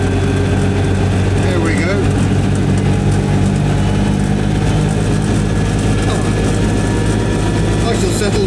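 A Skoda Favorit engine drones steadily and loudly at low pitch throughout a drive, with a brief spoken remark heard over it.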